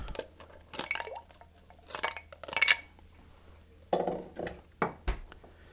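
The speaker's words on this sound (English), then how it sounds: "So let's add our ice." Ice cubes are dropped into a cocktail mixing glass, making several close, bright clinks and clatters in short bursts with quiet gaps between them.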